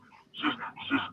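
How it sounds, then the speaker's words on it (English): A dog whimpers twice in quick succession, two short, high, nasal whines that are close and moderately loud, with a faint room hum underneath and no speech. "That's my dog."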